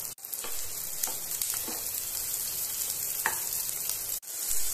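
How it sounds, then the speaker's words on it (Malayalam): Green chillies sautéing in a hot pan for ridge gourd chutney, a continuous loud close sizzle with a few soft clicks and scrapes of stirring. "3 പച്ചമുളകും കൂടെ ഇതിന്റെ കൂടെ ചേർത്ത് കൊടുക്കുകയാണ്. നന്നായിട്ടൊന്ന് വഴറ്റിയെടുക്കാം."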